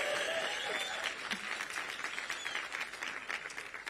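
A summit audience bursts into dense, loud applause that fills the hall for a few seconds and then begins to thin out toward the end.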